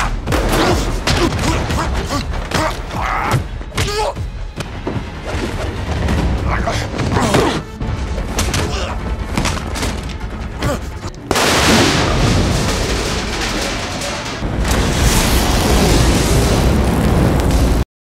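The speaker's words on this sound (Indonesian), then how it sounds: "Setelah menerima tembakan berkali-kali" Repeated gunfire and explosions in an action film fight scene, with a loud, dense barrage of bursts and booms that keeps going throughout and briefly drops off before resuming.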